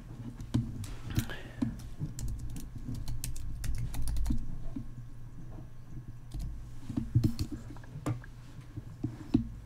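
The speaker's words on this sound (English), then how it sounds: "let me go ahead and type in my password here" A password is typed on a computer keyboard, close and steady: a quick run of crisp key clicks for several seconds, with a few louder taps and brief pauses, and no talking.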